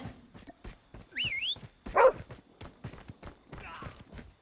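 A dog barks a few times in the shooter game Call of Duty Mobile, short yelps mixed with footsteps, clanks and other game effects, all moderately quiet.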